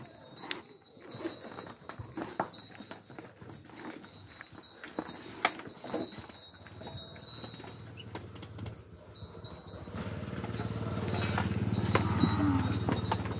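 A cow hauling a traditional wooden cart on a rural track: irregular hoof clops and wooden knocks and rattles over several seconds, then a louder, rougher rolling rumble as the cart moves on, outdoors with no talk.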